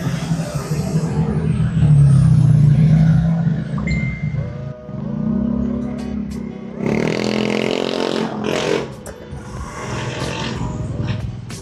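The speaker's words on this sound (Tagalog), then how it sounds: "Grabe traffic mga dre pag ganitong oras." Road traffic heard from a moving motorcycle: a rough engine rumble and passing vehicles drone continuously, with rising and falling revs and some scraping noise close by.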